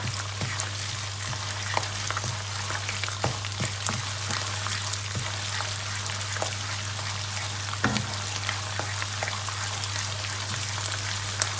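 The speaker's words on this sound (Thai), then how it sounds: "ผัดพริกแกงก่อนจ้ะให้หอม" Thai curry chili paste stir-frying in a pan, a steady dense sizzle with scattered crackles and occasional scrape-like stirring, close and moderately quiet, with no talking.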